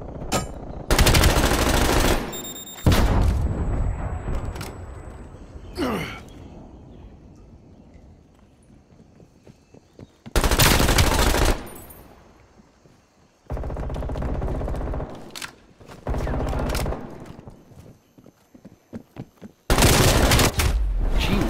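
Automatic rifle fire in a first-person shooter video game, using the LC10 gun, comes in loud, sharp bursts separated by quieter gaps and rattling movement sounds.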